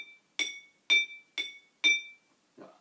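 Five bright pings from water-tuned drinking glasses struck one after another at an even pace, each ringing briefly with a clear pitch, then a duller final tap. Close, quiet room.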